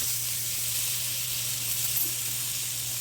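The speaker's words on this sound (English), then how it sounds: "Steak is getting cooked pretty good." Steak cooking in a covered pan on low heat, giving a steady, even sizzling hiss with a faint low hum underneath. No voices.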